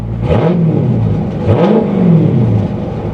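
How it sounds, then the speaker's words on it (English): A 2016 Dodge Charger SRT 392 engine, on a wrecked car, revs up twice in quick succession, each rise in pitch falling away again, loud and close. "Let's give it a little rev."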